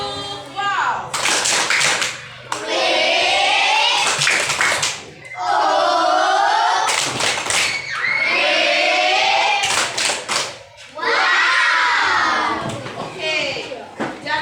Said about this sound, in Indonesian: Kita tepuk wow lagi untuk mereka yang sudah menjawab. Tepuk wow.